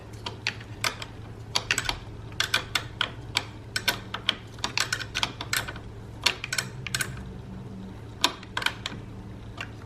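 A nut on the positive battery terminal of a Chevrolet Trax is tightened, producing rapid close metallic clicks and ticks in uneven bursts, like a ratchet wrench working, with no voice.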